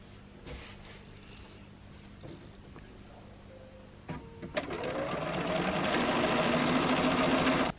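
A Bernina sewing machine stitches a quilt row strip, starting after a few seconds of quiet handling and then running as a steady, close, continuous motor whir with rapid needle chatter until it stops abruptly.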